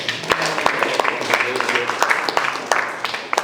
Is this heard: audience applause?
yes